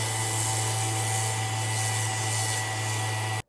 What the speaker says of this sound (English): I'm thinking of using this orbital sander